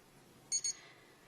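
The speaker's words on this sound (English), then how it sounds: "an alarm, and it beeps on the hour" A wristwatch alarm gives two quick high-pitched electronic beeps in close succession, thin and faint against a quiet room.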